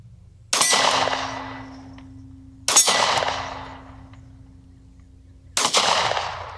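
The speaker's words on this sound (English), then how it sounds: "I feel like I have to reset the gun between each shot" Three sharp, loud 9mm shots from a small, lightweight Kimber Solo carry pistol, fired a couple of seconds apart, each with a bright crack and a ringing decay; no talking.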